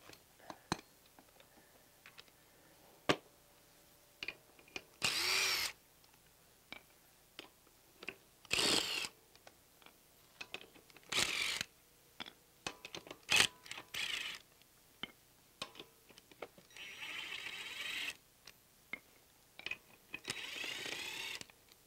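Short, sharp bursts from a power tool spinning off car wheel nuts on a sloped spot, spread out between quiet pauses with faint clicks and handling noises.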